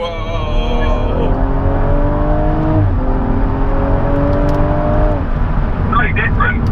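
A BMW M135i's engine accelerates hard on a dual carriageway, a loud sustained drone rising in pitch through several gear changes, heard from inside the car with voices talking over it.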